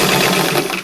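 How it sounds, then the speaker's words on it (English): Sewing machine stitching a hem on a coat sewn from a 1948 Vogue 1738 pattern; a brief, steady whirring run heard up close with no talking. "just before I start stitching"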